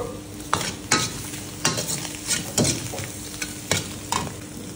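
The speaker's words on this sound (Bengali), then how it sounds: "আমাদের মিক্স ফ্রাইড রাইসে দেখুন সবজিটা ভাজা চলছে" Vegetables fry for mixed fried rice while a utensil scrapes and stirs them in repeated strokes over a constant loud sizzle, about eight distinct scrapes.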